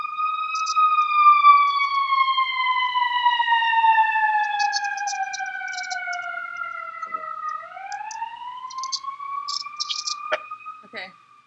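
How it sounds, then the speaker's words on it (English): Emergency vehicle siren passing through Chicago streets, a loud wailing tone that slowly falls in pitch then rises again, with faint chirping and clatter in the background. "There's a siren going by."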